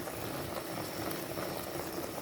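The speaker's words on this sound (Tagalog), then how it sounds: "kumukulo na siya kanina pa" Ginataang tulingan, tuna in coconut milk, bubbles at a steady rolling boil in a pot, a soft continuous gurgle and hiss, fairly quiet and uninterrupted.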